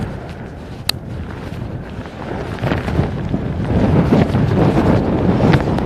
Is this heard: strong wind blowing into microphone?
yes